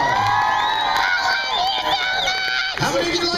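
A theater audience at a comedy contest show at Disney World during Christmas cheers loudly, a dense, continuous wall of whoops and yells up close with some clapping mixed in.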